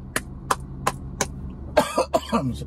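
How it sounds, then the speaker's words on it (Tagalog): Several short, sharp coughs in a row, then a few rougher throat-clearing coughs, close and fairly quiet. "Sorry, medyo may ubo."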